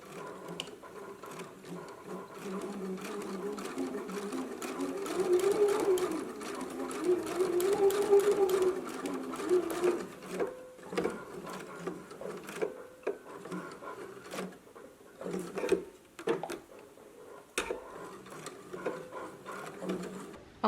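A sewing machine runs a narrow hem in a long, fairly quiet mechanical whir. The stitching pauses and restarts several times, with light clicks, fabric handling and a few brief bursts of talk between runs.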